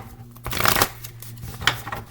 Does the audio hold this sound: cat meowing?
no